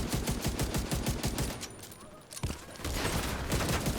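Rapid video-game gunfire with special ammunition, dense repeated shots for about two seconds, a brief lull with a single sharp report, then sustained firing resuming loudly.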